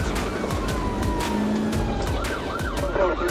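Police car sirens wailing during a high-speed chase, layered sweeping tones over rumbling traffic and road noise, loud and continuous.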